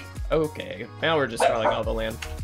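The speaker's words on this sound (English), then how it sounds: "Sorry for the dog barking." A pet dog barks and yips close by in a home while a person talks over the noise, short sharp barks scattered through the speech.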